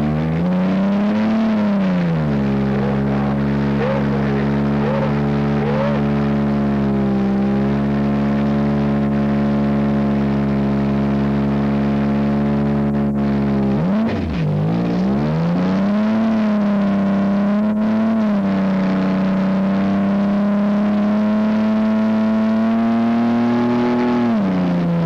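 A minivan engine screams at sustained high revs through a burnout, pitch climbing, dipping and surging again, loud and close for the whole stretch as the transmission gives out.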